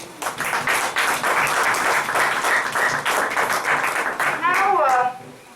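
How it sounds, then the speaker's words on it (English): An audience at a chapter meeting claps in a fairly rhythmic, close burst that fades out near the end, with a voice speaking briefly over the final moments. "So I would request you to clap for her for that too."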